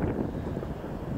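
Wind at the Brouwersdam by rough water, a low steady rumble buffeting the microphone for a brief moment.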